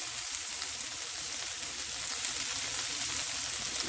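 BBQ chicken seasoned with smoked paprika sautés in a pan, giving a steady close sizzle with a faint crackle that rises a little toward the end, with no voices.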